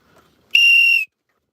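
A single clear, high, steady whistle blast rings out for about half a second, loud and close, in otherwise near silence.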